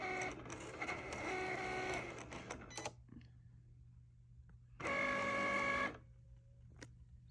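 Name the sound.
Cricut machine cutting fabric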